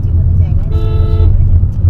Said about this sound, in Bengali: হর্ন দিতে হবে।